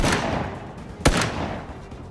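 A single pistol shot in PUBG cracks out sharply midway, set against a steady background of in-game ambience, loud and close with no other shots following.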